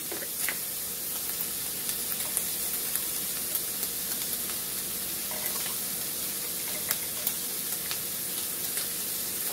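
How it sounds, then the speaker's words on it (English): Ground beef browning in a pot, a steady dense sizzle and crackle with occasional faint stirring scrapes, continuous and close. "While you're browning the ground beef, you're going to want to pre-cook your tortellini."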